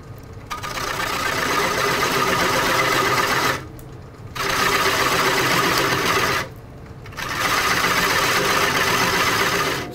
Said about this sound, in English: So let's cut the tenon